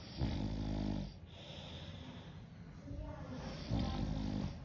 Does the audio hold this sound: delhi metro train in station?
no